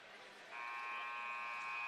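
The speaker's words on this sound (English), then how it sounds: "The buzzer sounds." A game-ending buzzer blares in a college basketball arena at a Florida Gulf Coast versus Florida Atlantic game, a steady electronic drone cutting in over faint crowd noise and holding to the end.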